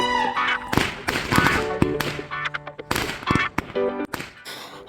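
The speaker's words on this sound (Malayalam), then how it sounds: "അങ്ങനെ പടക്കമൊക്കെ പൊട്ടിച്ച്" Firecrackers burst during a Diwali night celebration, a run of sharp cracks and pops at irregular intervals, some near and loud, mixed with clattering and faint voices in the background.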